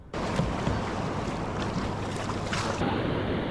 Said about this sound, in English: Dang, some of those waves are popping up 6 feet tall.